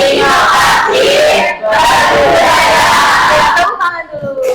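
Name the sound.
class shouting a group yell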